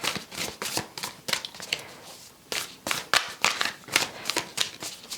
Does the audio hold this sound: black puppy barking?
no